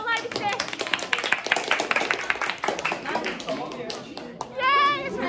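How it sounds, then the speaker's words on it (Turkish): Clapping from a small group of schoolchildren at the end of exam week, steady and close, with children's voices chattering underneath and a cheerful shout near the end. "Alkışlayın biraz, sınavlar bitti."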